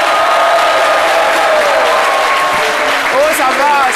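Loud, dense studio audience applause that sustains evenly throughout, with a crowd voice or two rising over the clapping near the end.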